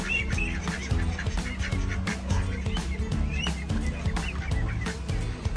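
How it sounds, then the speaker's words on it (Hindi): Ducks in a pen on a farm in Pakistan quack and honk repeatedly nearby, several birds calling over one another in busy, overlapping bursts. "यहाँ पे इन्होंने डक्स के लिए भी जगह बनाई हुई है"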